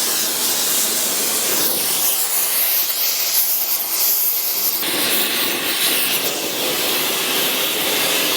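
Torch flame heating the catalytic converter on a 1982 Jeep CJ7 exhaust, a loud, close, continuous roaring hiss that shifts slightly in tone partway through, with no talking.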